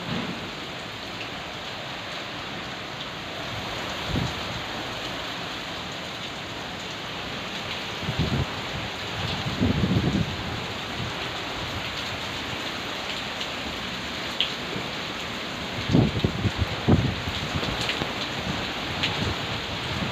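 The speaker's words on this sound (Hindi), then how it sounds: "इतनी तेज़ बारिश थी और 2:30 बजे से लेकर 4:30 तक नॉन स्टॉप बारिश होती रही।" Heavy, nonstop rain pours onto a terrace in a steady dense hiss, with a few louder splashes and low thumps rising out of the continuous downpour.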